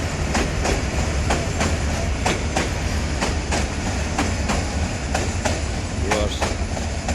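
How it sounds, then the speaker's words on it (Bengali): A train rolling across a bridge on the line toward Mymensingh, its wheels giving a steady run of loud, rhythmic clickety-clack over a deep continuous rumble, close by throughout. "ট্রেনটা যাবে ময়সিংহে সমূহ ব্রিজের উপরটা যাবে এটা এখন"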